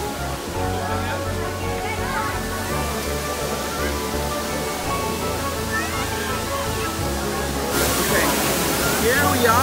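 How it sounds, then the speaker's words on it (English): Kawasan Falls in Cebu, Philippines, a waterfall crowded with visitors, gives a steady broadband rush of falling water that grows louder toward the end, with crowd chatter mixed in. "I can't wait to hear the water."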